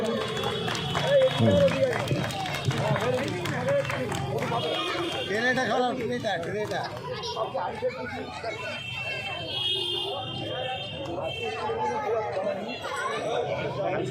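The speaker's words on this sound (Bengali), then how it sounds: "সবাই গড় করে হাততালি দিন" Crowd applause at the Metiabruz Garments Festival 2024 award ceremony: a dense, sustained wash of clapping mixed with murmuring chatter from the audience throughout.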